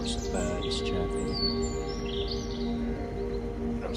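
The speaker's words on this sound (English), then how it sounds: "lots of birds chirping" Countryside birds chirping along a rural road lined with hedges, a steady bed of small tweets and calls near and far over a constant low outdoor hum, with no talk.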